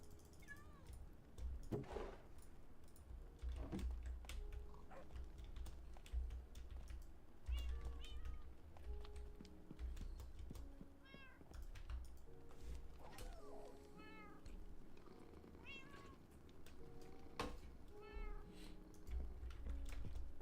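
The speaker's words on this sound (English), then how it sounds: "Kitty purring." A cat indoors makes a near, repeated run of short meows over a low steady rumble, with scattered clicks like keyboard typing throughout.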